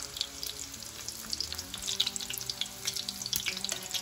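Egg roll wrappers fry in a pan, producing faint, irregular crackles and small pops scattered over a low background, with no one speaking.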